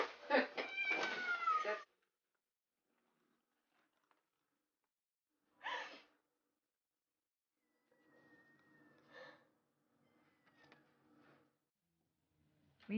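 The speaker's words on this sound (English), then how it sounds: "He would scream at the door and jump up on the window." A kitten at a door lets out a long, loud yowling meow, then another sharp cry a few seconds later, followed by quieter scuffling and faint mews.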